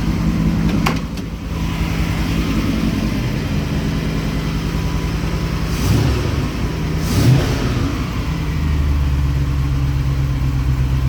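A 1972 A-suffix Range Rover engine idles steadily with a low, even drone, giving two short blips of revs partway through, with no one talking over it.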